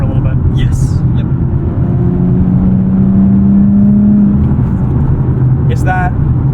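A 2012 Nissan 370Z with a 6-speed manual and tune pulls hard under acceleration, its engine drone rising steadily in pitch and staying loud and close throughout, with a short voice or two briefly breaking in.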